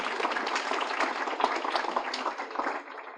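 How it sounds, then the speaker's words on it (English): Audience applause at an evening youth awards event, a dense steady wash of clapping from a crowd lasting a few seconds without talk. "So a little round of applause for them."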